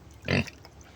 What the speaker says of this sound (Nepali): यो हो सुँगुरहरू।